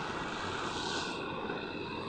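Airplane engine in the Free Fire video game, a steady, loud broadband drone holding evenly throughout with no talk over it.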